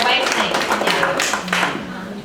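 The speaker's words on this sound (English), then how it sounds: "please give her a round of applause" An audience at a shadow puppet performance claps in a burst of applause that tapers off, while a voice speaks over it.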